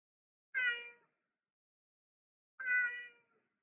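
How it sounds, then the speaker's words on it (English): Domestic male cat meowing indoors, two clear, drawn-out meows about two seconds apart, close and fairly loud against silence. "Oh, hang on, you ridiculous cat."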